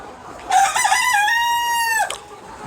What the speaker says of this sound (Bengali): দেখেন মোরগগুলো আমি আলাদা রাখছি